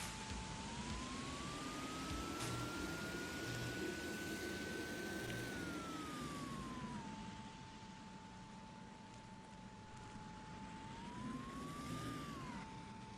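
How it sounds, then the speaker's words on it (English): Police car siren in the video game The Casebook of Arkady Smith, a single slowly rising and falling wail over a constant hiss, fairly faint and steady throughout. "That was a cop siren."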